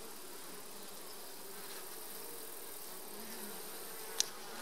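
Honey bees in an open beehive give off a faint, steady hum with no talk, and a tiny sharp tick comes near the end.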